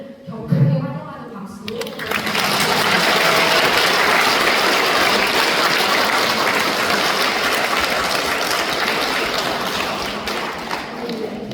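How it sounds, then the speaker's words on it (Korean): A congregation at a Won Buddhist temple ceremony breaks into loud, sustained applause to welcome guests, starting after a brief spoken line and continuing steadily for about ten seconds. "우리 오늘 교당에 축하해주러 오신 분을 격하게 환영하는 박수"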